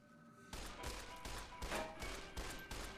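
Rapid gunfire in Fallout New Vegas, a steady run of repeated shots in an even rhythm, fairly faint and distant-sounding, keeping up without pause after a quiet start.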